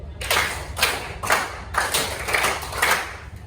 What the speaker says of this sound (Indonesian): Tepuk tangan 3 2 kali.